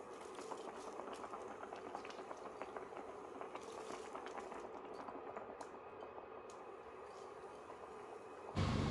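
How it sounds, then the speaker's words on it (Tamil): Water at a rolling boil in a pot for brinji rice, a steady close bubbling and seething that runs unbroken, alone without voices, before a brief louder clatter at the very end. "நல்ல கொதி வந்துட்டு நம்ம ஊற வச்சுருந்த அரிசியை வடிகட்டி இதில் சேர்த்துடலாம்."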